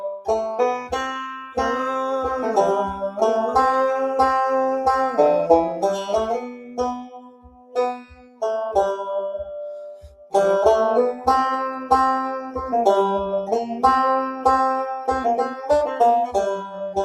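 Banjo picking a bluesy phrase with plucked notes, slides and bent-sounding runs, briefly pausing midway before the phrase resumes; solo instrument, close and clear with no voices.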